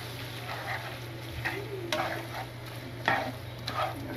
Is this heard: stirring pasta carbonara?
yes